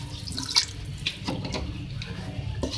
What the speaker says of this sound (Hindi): अब मैं इसमें यखनी ऐड करूँगी जो मैंने मसाले के साथ तैयार कर ली थी